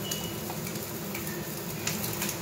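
Crushed garlic, ginger and onion frying in a pan with very little oil, a low, continuous sizzle close by with faint occasional clicks of a utensil and no talking.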